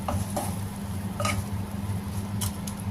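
Fish roe being stirred and fried in a pan, a low steady cooking hiss with a few soft clinks and scrapes of a utensil against the pan at irregular moments.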